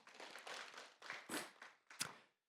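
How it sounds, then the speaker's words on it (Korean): A short burst of hand clapping from a small church congregation during a Sunday service, a few scattered claps swelling and trailing off within a couple of seconds, fairly quiet. "믿음의 동지들에게 박수 한번 쳐주시기 바랍니다."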